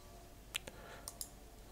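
Quiet mouse clicks in mapping software, a few sharp taps in quick succession over faint room hiss, the brighter pair arriving close together near the end.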